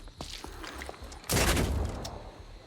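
Gunfire in the turn-based tactics video game Phoenix Point: a sudden, loud burst of shots with a heavy, sustained rumble and crackle, following quieter background game sounds.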